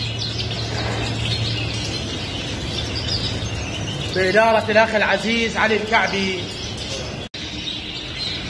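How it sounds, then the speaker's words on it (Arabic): Ornamental cage birds at a bird shop chirp in a short, lively burst of high tweets midway, close by and partly under a man's speech, with a steady hum beneath. "تغريدهن كلش حلو."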